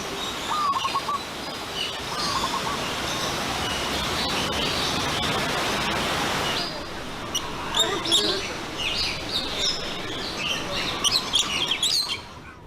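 Many birds chirp and tweet at once in a busy, echoing chorus inside a 3,000-square-meter aviary built over a natural valley in Hong Kong, with a dense wash of calls that thins into sparser, distinct chirps near the end.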